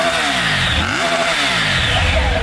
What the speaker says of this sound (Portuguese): Esse é o barulho da Targ 900 original